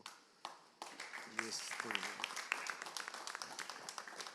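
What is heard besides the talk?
audience applause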